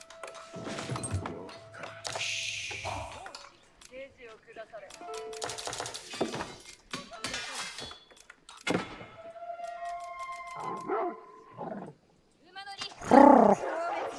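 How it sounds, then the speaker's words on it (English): A dog barks in a few sharp, scattered bursts, mixed with people talking and clattering sounds across the clip. "Get out of here, doggy dog."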